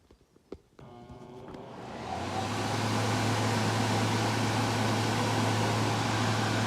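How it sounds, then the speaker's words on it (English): Cooling blowers for an RF tube spin up after a switch click, rising into a steady, loud whooshing roar with a low hum, running alone without talk. "we are only powering the blowers on this"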